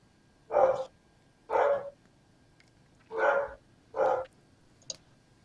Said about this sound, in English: he just won't stop barking down there